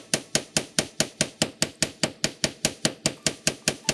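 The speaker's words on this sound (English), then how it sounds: "pick up your multifunction hammer, and texture the entire piece" Rapid, steady hammer strikes texturing a metal bracelet with a multifunction hammer, about five per second, each a sharp ringing tap, close and alone with no voices.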